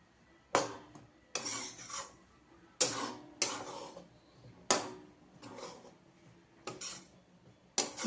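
A spoon scrapes and stirs besan roasting in ghee in a pan, about eight rhythmic scraping strokes with soft gaps between them, close and fairly quiet.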